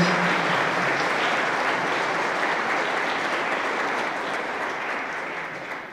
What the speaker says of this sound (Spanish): un fuerte aplauso al Padre